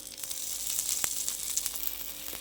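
A sweet potato uthappam sizzles in a little oil on a hot pan, a soft continuous frying hiss with faint crackles and pops, heard alone and fairly quiet for a couple of seconds.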